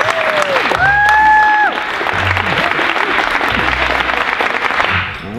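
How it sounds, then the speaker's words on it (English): Applause from a cast and crew gathered at a film picture wrap party, steady dense clapping filling the whole stretch with cheering voices and a short spoken remark over the top. "big round of applause for our cast"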